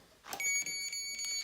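A REMPOD paranormal research device gives a brief electronic beep and then a steady high-pitched tone, alone and fairly faint, cutting off near the end.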